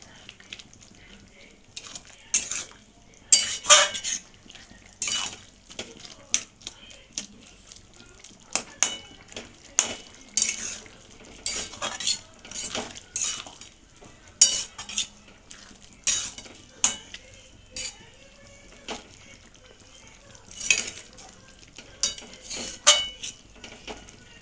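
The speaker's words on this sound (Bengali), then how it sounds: "এবার একটু খুন্তি দিয়ে ভালো করে ঘেঁটে নেব।" A metal spatula stirs boiled banana flower curry in a pan, scraping and clinking against the metal in irregular bursts, close and fairly loud, with no voices.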